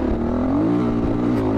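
Husqvarna FE350 motorcycle engine revving steadily up close, a continuous buzzing drone with rising pitch and no pauses.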